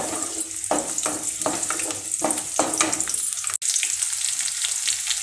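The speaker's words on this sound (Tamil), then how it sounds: "இது கொஞ்சம் நல்லா வதங்கணும்." Garlic sizzles and crackles steadily in hot oil while being sautéed for Maggi masala pasta, with a few soft scraping stirs near the start, then the frying hiss continues on its own.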